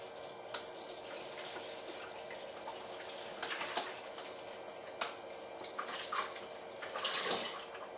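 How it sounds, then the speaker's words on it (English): Wine kit juice poured gently from its bag into a pail, a steady quiet trickling and splashing stream with occasional drips, fairly faint and without talk. "take the lid off your juice and to carefully lift that over the edge of the pail and pour that in gently"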